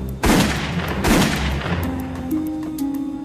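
Two loud, close gunshots ring out in a dramatized reenactment of a shooting aboard an airliner, each followed by a lingering decay, then a quieter tail with a faint background tone.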